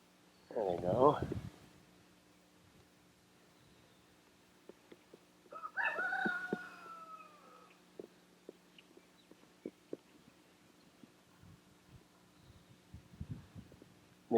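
A rooster crows twice, once near the start and again a few seconds later, both moderately faint and at a distance, at an outdoor roller pigeon fly event, over a low hum and scattered clicks.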